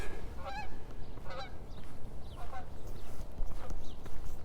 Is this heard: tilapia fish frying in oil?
no